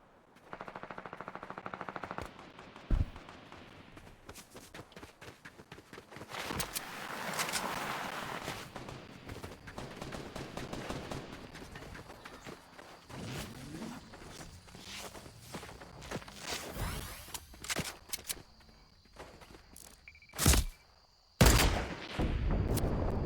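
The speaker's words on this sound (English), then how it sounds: "Somebody's shooting from over there." Gunfire in a Fortnite solo match crackles in scattered bursts and single shots amid footsteps and movement noise, fairly faint at first and louder, sharper cracks near the end, with no talk.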